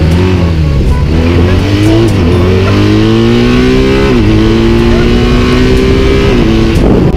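A motorcycle engine revs under throttle at about 3500 RPM, loud and close, its pitch rising and falling in several steps through the gears.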